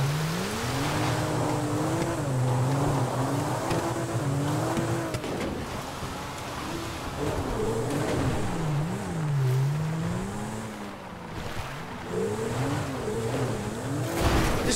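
A car driven recklessly in the video game Grand Theft Auto V, its engine revving and wavering loudly throughout with repeated surges and tire squeal, alone with no talk.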